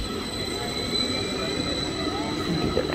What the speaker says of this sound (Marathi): या बाजूला एक ट्रेन आहे ती बघा जाते